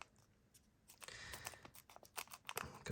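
Scissors snipping open a Scarlet & Violet 151 Pokemon card pack, a run of close, crisp cutting and crinkling foil sounds in a quiet room.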